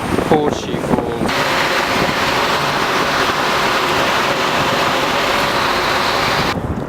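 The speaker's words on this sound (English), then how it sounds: "over here we're approaching the mist of Horseshoe Falls." Steady roaring rush of Horseshoe Falls at Niagara, heard from a boat approaching the mist, mixed with buffeting wind, loud and continuous, with brief voices at the start.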